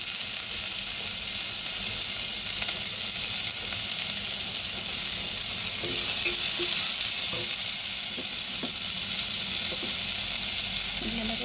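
Garlic frying in a pan, a steady close sizzle with light stirring scrapes, running continuously without talk.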